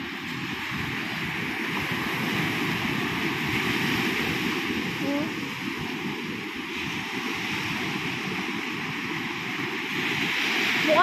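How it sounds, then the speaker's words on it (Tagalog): Large ocean waves roll in as a steady, broad roar of surf with wind buffeting, continuous and fairly loud throughout, with no one talking. "Pero napakalaking alon pa rin yan."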